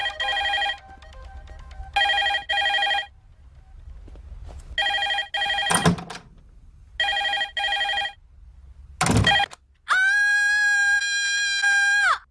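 A telephone rings again and again in evenly spaced electronic bursts, loud and close, broken by a couple of sharp bangs and ending in a sustained higher tone.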